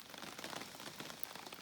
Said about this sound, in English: Of course, I got here in the rain. It's sprinkling.